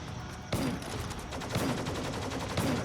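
Grenade launcher rounds fired in the online shooter Firefall: a steady crackle of gunfire and blasts with sharper thumps near 0.5, 1.5 and 2.6 seconds, loud and dense throughout.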